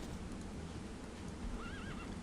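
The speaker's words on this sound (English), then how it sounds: "You can see over on this side some horse archers and some normal horsemen." A horse whinnies briefly from cavalry units in Rise of Nations, a faint wavering neigh near the end over a dense, constant battle-noise wash.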